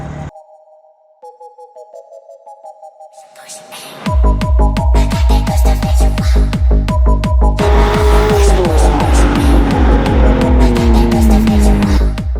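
Brand-new 2024 BMW M2 (G87) in sport mode: after a few quiet seconds a loud, steady engine drone kicks in and rises in pitch as the car pulls, heard from inside the cabin.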